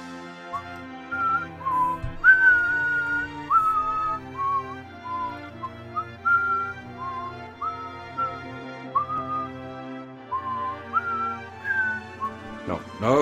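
A person whistles a lilting, wavering melody in short repeated phrases, close and steady over game music and a low background drone during play of the PSP version of Final Fantasy I.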